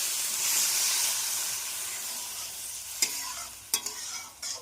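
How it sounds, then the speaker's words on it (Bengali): Sautéed potatoes for kela kofta give off a steady close sizzle and hiss in the pan after water goes in, followed by a few sharp clinks and scrapes of a utensil near the end. "এবার আমরা জল দিয়ে দিচ্ছি আলুটা আমাদের ভালো করে কষানো হয়ে গেছে"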